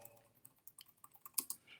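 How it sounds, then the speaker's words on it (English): Someone types on a computer keyboard with quick, irregular key clicks, faint and close, with no voice over them. "I'm talking and typing at the same time"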